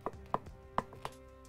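Four crisp knife chops through food on a cutting board while preparing lemon, thyme and garlic, spaced irregularly, close and moderately quiet.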